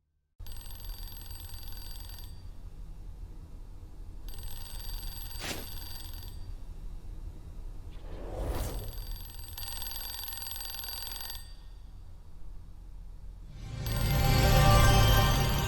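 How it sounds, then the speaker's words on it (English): A museum alarm in a mystery video game rings in repeated electronic bursts, each lasting about two seconds with brief gaps, steady and piercing, later swelled by a rising whoosh of noise, with no voices. "The alarm went off and all the doors locked."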